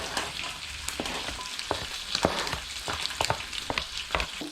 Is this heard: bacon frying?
yes